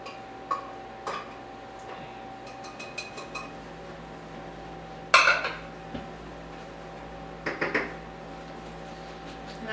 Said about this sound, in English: I want to get my spoon to get all of it out